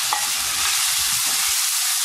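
Onion and carrot frying in heated vegetable oil give a steady, bright hiss of sizzling, with a few soft low knocks early on; no one speaks.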